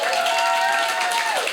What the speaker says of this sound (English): Yeah, you can start clapping already.